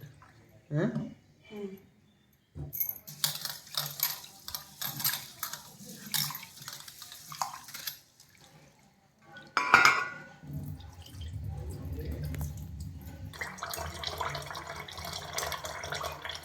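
Ingredients for pakodas are rinsed clean in water with splashing, dripping and sloshing in uneven bursts, close up, while voices are heard in the background.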